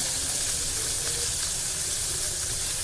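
Boi (mullet-type) fish frying Agri style in a pan with coriander sprinkled on top, a steady dense hiss of hot oil running evenly throughout.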